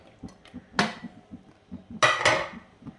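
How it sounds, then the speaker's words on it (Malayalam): Clay pot being handled while chopped mango is added for a curry, a few sharp clinks and clatters of pot and utensils, fairly close, with quiet movement between them. "നമ്മളൊരു ചട്ടി എടുത്തു അതിലേക്ക് ഈ മാങ്ങ അതൊക്കെ അരിഞ്ഞ് വെച്ചിരിക്കുന്നത് ചേർക്കാം"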